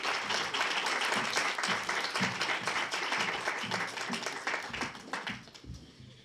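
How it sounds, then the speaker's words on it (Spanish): Audience applause at a panel discussion on indigenous peoples' struggles, a steady, fairly faint wash of many hands clapping for several seconds, slowly tapering off toward the end. "un fuerte aplauso nuevamente"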